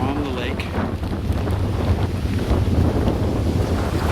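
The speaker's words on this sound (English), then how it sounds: "It's very windy and wavy today." Strong wind buffets the microphone with a low, continuous rumble, and lake water sloshes underneath on a wavy pond.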